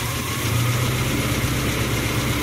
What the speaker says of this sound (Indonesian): Kita gas pelan-pelan.